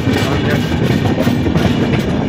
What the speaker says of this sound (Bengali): মুম্বাইয়ের লোকাল এসি ট্রেন চলে গেল